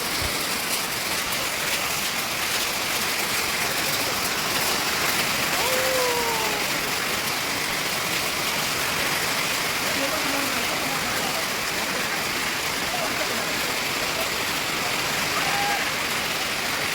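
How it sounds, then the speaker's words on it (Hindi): Heavy rain pours at an outdoor Sunday market, a dense, loud, unbroken hiss filling the whole stretch, with faint voices and small clatters scattered beneath it. "क्या बारिश है।"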